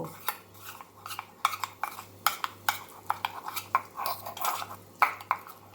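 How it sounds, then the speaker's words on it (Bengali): Ingredients, including oil-laced juices, being mixed into a thick paste in a bowl, with repeated close clinks and scrapes of a metal spoon against the dish in an uneven rhythm over a low background hum. "এবার এই সব কটা ইনগ্রিডিয়েন্টসকে মিশিয়ে একটা থকথকে পেস্ট আমি বানিয়ে নেব"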